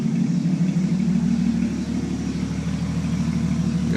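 A Jeep with a custom grill, tow hooks and a Full Boar 10 series single-chamber racing muffler rumbles steadily at close range, a deep, even idle with no talking.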